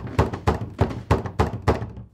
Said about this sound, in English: he knocks on Ashki's door.